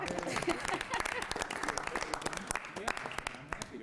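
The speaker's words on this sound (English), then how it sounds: "You could clap again if you want to." Scattered clapping from people at a city council meeting, sharp claps in an uneven rhythm, close by, with voices talking over it.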